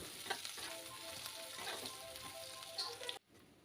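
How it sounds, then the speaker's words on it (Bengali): Long-sliced onions fry in hot oil as they are stirred toward golden brown, a close, busy sizzle with scraping spoon strokes, cutting off abruptly at the end. "পেঁয়াজটাকে নাড়াচাড়া করে গোল্ডেন ব্রাউন করে সুন্দর করে ভেজে নেব।"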